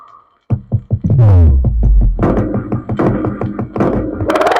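A bass drum struck with sticks on a late-1990s record thumps in a quick, regular rhythm of deep, loud hits, joined by other layered drum and percussion sounds as the beat builds.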